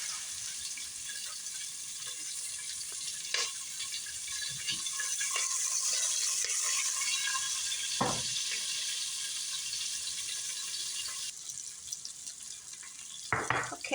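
Soft sizzling and liquid splashing as a pot holding rendered pork oil and sautéed onions is deglazed, a steady frying hiss with a few clanks of utensil against metal, no voices.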